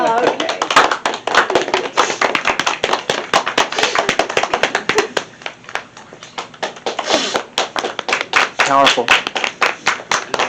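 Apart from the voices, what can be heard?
audience clapping after a play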